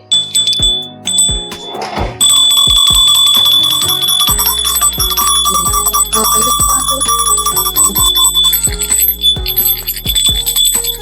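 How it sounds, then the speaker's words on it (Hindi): A bright metal hand bell rings repeatedly and loudly during Sanjhi Mai worship, its clear tones sustaining and overlapping, with scattered knocks and clatter around it. "ये ले ले घंटी।"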